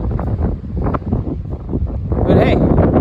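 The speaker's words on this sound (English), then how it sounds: "Lots and lots of wind." Strong wind buffets the microphone during a walk outdoors near sailing boats on a muddy shore, a steady low roar that swells louder near the end.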